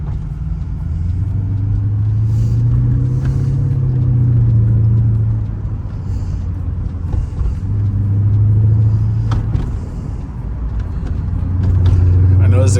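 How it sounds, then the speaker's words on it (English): A 2009 Mercedes-Benz SL550's exhaust drones low and steady while driving, swelling and easing with throttle, close and loud, with someone talking over it. "This exhaust sounds good."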